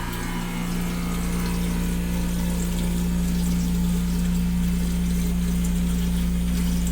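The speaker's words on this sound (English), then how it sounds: "Got a nice flow of water." Water flowing into an SY604A ice machine, a steady, even rush of liquid through the machine's plumbing, continuous for the whole stretch over a constant low mechanical hum, fairly close and moderately loud.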